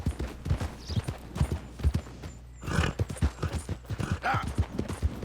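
A horse gallops in Red Dead Redemption 2, heavy hoofbeats in a loud rolling rhythm with a short lull midway, alongside brief breathy snorts.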